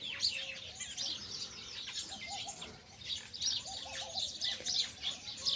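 Pigeons nesting with a chick on eggs give faint, soft chirps and low coos in short scattered bursts, quiet and close in a calm setting.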